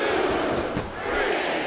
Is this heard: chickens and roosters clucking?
no